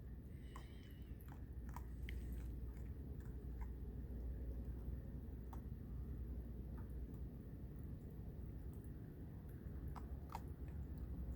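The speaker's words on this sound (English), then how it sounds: "oh, listen to him chomp" A raccoon chomping on pecans outdoors, with irregular crunchy bites and chewing clicks over a steady low background hum, faint and close, with no talk.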